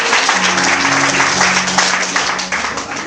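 A church congregation applauding during a lively service, dense steady clapping from many hands filling the room, with a voice carrying over it.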